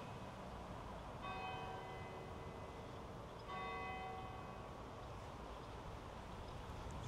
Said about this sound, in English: We always seem to time it right with the church bells, don't we?